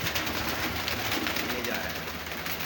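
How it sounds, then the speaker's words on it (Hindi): Low cooing pigeons kept by a captain murmur amid dense, noisy surroundings in a short, continuous stretch without pauses. "ये कबूतर पकड़ा है, ये खट्टे रंग लगा कबूतर पकड़ा है"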